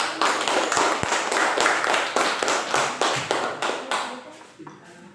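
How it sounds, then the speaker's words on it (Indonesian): Students in a classroom clap their hands together in a brisk, fairly rhythmic round of applause, close and lively, fading out after about five seconds. "Tepuk tangan."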